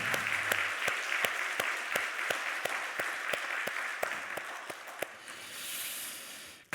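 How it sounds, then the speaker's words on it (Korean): A church congregation claps together during a Sunday worship service, a dense steady burst of applause that runs for several seconds with a few sharper individual claps standing out, then thins and stops. "박수 한번"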